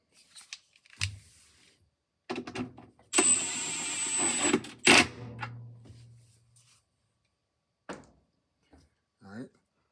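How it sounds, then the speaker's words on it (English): An impact gun, with its torque turned down, drives screws into the plastic housing of an LG washing machine. It gives a few short whirring, rattling bursts separated by quiet gaps, with one longer run, and a voice is briefly heard near the end. "Get my impact gun back out here"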